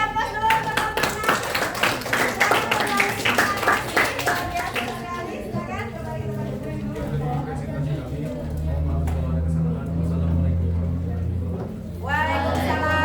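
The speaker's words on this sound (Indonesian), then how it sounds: "Kita kasih aplaus dulu untuk kelompok 6." A classroom of students claps for a presenting group, steady applause for the first five seconds before fading into a teacher speaking over a low hum.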